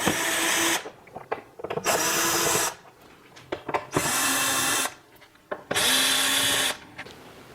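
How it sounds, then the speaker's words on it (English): A power drill driver backs out the mounting screws on the back of a Vizio TV in repeated bursts of whirring, each lasting about a second, separated by brief pauses with small clicks and handling sounds. "So there are 4 mounting bolts or mounting screws on the back of the TV. So we're going to remove those next."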